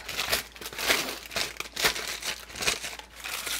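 Parchment paper is crumpled by hand into a wad, making close, loud crinkling and rustling in repeated bursts with no talking.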